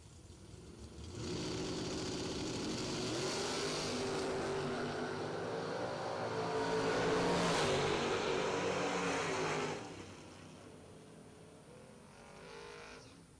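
Drag race cars at an SFG Half Million event roar off the line with a loud sustained engine howl, building to a peak before cutting off sharply and fading into a quieter engine rumble.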